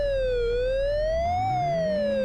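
Police car siren from the Amiga racing game Test Drive II, a synthesized wail sweeping slowly up and down in pitch, loud and steady beneath a low engine drone that climbs in pitch.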